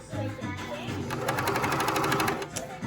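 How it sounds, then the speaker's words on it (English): Cover stitch sewing machine running steadily while stitching straps on a kids' cami, a close, continuous mechanical whir with rapid needle clatter, briefly pausing and restarting near the start. "I'm using my cover stitch to go in"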